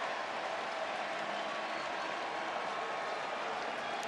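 A huge baseball crowd roars and applauds continuously at the Oakland Coliseum's final game, Rangers at Athletics, a dense, sustained wall of cheering with no break.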